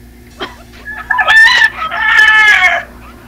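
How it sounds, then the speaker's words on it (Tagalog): Several fighting roosters crow loudly and close by, overlapping one another, with sharp clucks mixed in. "Maraming manok. Pansabong yan."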